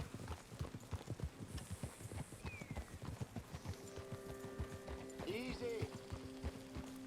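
A horse's hooves clip-clop at a steady walking rhythm on a trail in Red Dead Redemption 2, close and continuous, with light game ambience and a brief snort or whinny mixed in.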